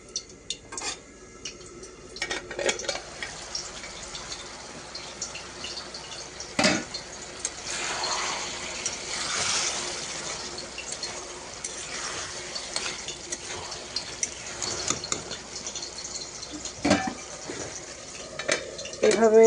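Bottle gourd frying in a wok, with a soft continuous sizzle, clinks of a utensil against the pan and intermittent stirring scrapes, fairly quiet and close with a few sharper knocks.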